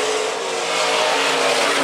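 Stock cars roar around the Phillips County Raceway during the stock car main event, a dense continuous engine drone with tire noise, heard from a distance without talk.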